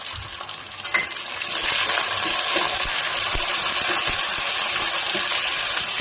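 Cumin seeds, peanuts and dried red chillies frying in hot oil for lemon rice, a loud, steady sizzle that swells after the first second, with faint scattered pops and stirring scrapes.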